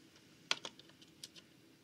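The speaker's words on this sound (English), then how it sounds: "So say I'll click this button" A single sharp button click on a Lightworks Console Mk-1 editing controller, followed by a few fainter clicks and taps in a quiet room.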